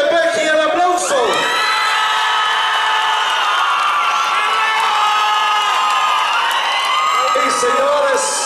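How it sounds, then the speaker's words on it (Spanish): Spectators at a bull riding tournament in a mobile bullring in Arteaga roar continuously. Loud cheering, whoops and high shouts layer into a steady, energetic crowd din, with little distinct clapping standing out. "El aplauso."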